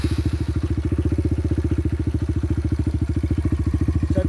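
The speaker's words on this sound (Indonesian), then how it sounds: "Jadi ini suara waktu idle ya." A motorcycle fitted with a GP7 Power Core 1 Predator CNC aftermarket exhaust idles steadily, giving a deep, even, rapid thumping pulse that is loud and close, with no voices.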